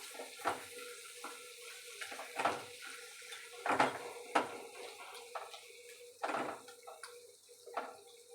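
A spoon scrapes and clinks against a pan while soya chunk curry with milk and dried fenugreek is stirred, giving about a dozen distinct close strokes over a faint background.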